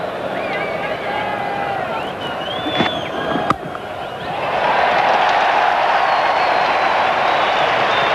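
A cricket crowd at Perth roars after a boundary in a match between Australia and Pakistan, a broad swell of cheering and applause that builds and holds loud after a quieter start with a voice speaking over it.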